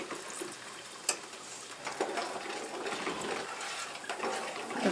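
Sausage gravy bubbling in a pan on the stove, a soft continuous liquid simmer broken by scattered pops and bursts of bubbles, close up with no talking.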